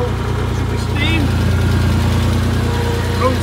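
A salvaged 2002 Porsche Boxster engine with 97k miles idles steadily with a smooth, even hum and no rattles, close by, while someone talks over it.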